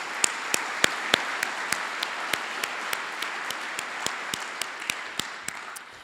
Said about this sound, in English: So a round of applause to you for really just engaging with our faculty.